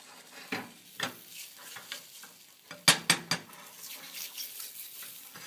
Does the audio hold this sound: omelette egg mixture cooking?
yes